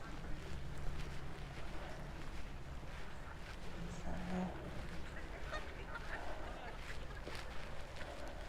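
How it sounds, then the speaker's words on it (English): Geese honk on the Skegness beachfront in winter, with a few scattered calls at a moderate distance over a constant outdoor wash of background noise. "you can see the geese again, all making themselves at home"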